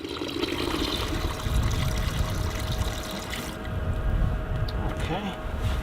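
Cold water is poured into a tub of warmer water in a greenhouse plant room, a steady splashing trickle that runs continuously under someone talking.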